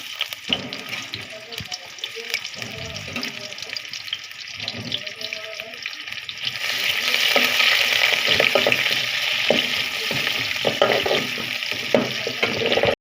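Onions fry in a pan with a steady hiss that grows louder partway through, while a voice talks during the first half.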